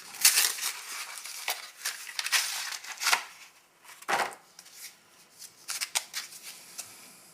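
A 2004 military MRE pouch of ham and shrimp jambalaya is torn and opened up close, a series of sharp crinkling and ripping bursts of plastic packaging separated by short pauses.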